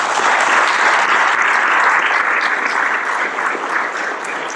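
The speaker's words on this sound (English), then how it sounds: "one more round of applause for this gentleman" A large audience at an outdoor-industry conservation talk gives a speaker a sustained round of applause. The clapping is loud, thick and steady, then eases off slightly toward the end.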